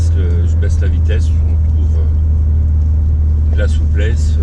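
A Volkswagen Golf 1 GTI engine drones loudly and steadily from inside the car as it shifts down, a deep constant hum beneath the conversation of occupants talking over it.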